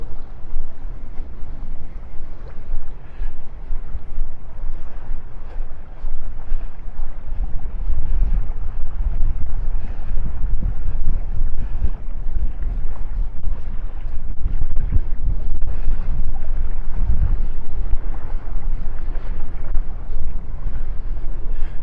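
Constant low rumbling wind buffeting the microphone on a beach at a coastal pass, gusty and loud throughout, with no voices.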